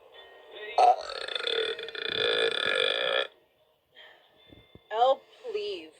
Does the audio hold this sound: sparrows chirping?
no